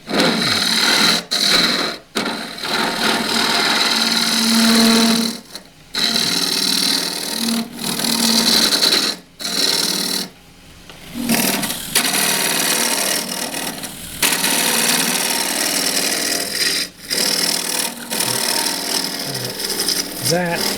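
A wood lathe turns a cedar pot while a gouge cuts toward the centre, giving a loud, continuous scraping hiss that drops out briefly several times as the tool lifts off the wood.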